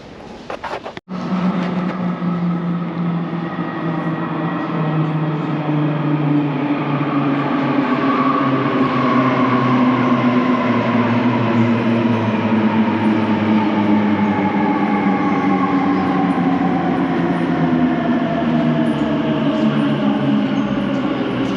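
An Elizabeth Line train runs near Shenfield, with a loud, steady rumble and rising whine as it moves along the track, a sharp knock near the start, and no talk over it.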